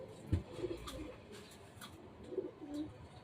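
Pigeons cooing softly nearby, with low, throaty coos repeating at intervals over faint background noise and a brief thump.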